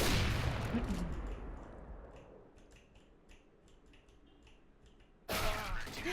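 Gunfire in a CS:GO 1v1 AWP match: one loud shot opens with a long fading tail, then a sharp burst hits again near the end, with faint clicks between.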